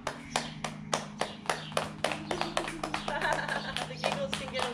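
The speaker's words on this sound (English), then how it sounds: "And clap our hands." A group claps hands in quick, irregular bursts during a laughter yoga session, the sharp claps close and distinct over a low hum, with giggling voices mixed in.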